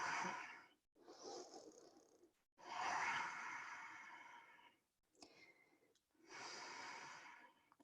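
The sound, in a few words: deep breathing during yoga wheel pose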